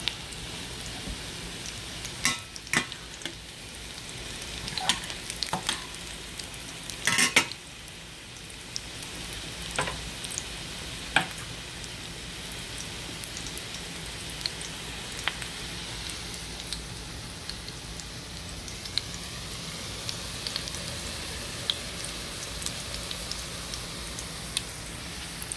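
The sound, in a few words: Dungeness crab cakes frying in a pan on medium high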